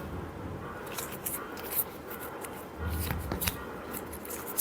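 Tarot cards being shuffled by hand close to the microphone, a soft riffling and flicking in several quick bursts, fairly quiet.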